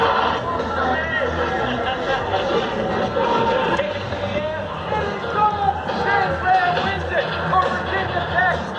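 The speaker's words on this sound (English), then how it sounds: "And the Hokie crowd are on their feet over there" Virginia Tech Hokie football crowd on its feet in Blacksburg, a broad roaring swell of cheering and babble with shouting voices rising and falling, heard close and loud under excited talk.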